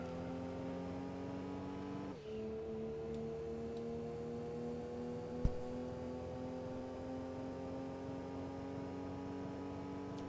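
Volkswagen Beetle engine holding a steady droning hum while racing a lap in Gran Turismo 2, with a shift in pitch partway through and one brief sharp click, no voices.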